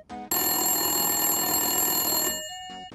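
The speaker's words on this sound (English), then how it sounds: "Then, this is a candlestick phone in early 1920s." An early-1920s candlestick phone rings loudly, one long continuous bell trill lasting about two seconds after a brief opening burst, then stopping abruptly.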